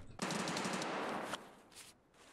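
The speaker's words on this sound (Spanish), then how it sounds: "Esos son tiros en dorms" Gunfire in Escape from Tarkov: a rapid automatic burst rattles off, fairly faint as if from a distance, then trails away into a quieter echo.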